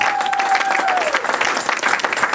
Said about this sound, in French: Clap the hand for the Lord.